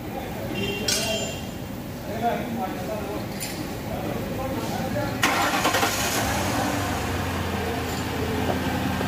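A car engine is started with the ignition key after a no-crank fault: faint clinks of the key, a sharp burst as it catches, then a steady idle running underneath, with someone talking throughout.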